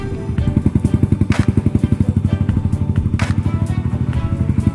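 A Thai e-taen farm vehicle's engine chugs close by in a fast, even, loud thumping rhythm, with a couple of brief knocks on top and no speech.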